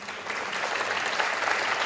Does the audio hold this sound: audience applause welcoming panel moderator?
yes